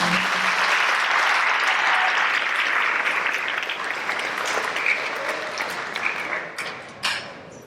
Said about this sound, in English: We have a round of applause for our 1-year honor.